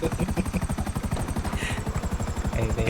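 A helicopter's rotor chops in a steady, rapid rhythm with engine drone, loud and continuous throughout, in the video game GTA V.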